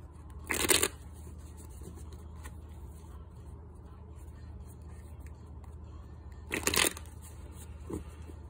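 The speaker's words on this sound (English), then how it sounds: "I'm going to shuffle the first deck just a few more times and split the deck" Two short riffling bursts of a tarot deck being shuffled, several seconds apart, over a quiet low background hum.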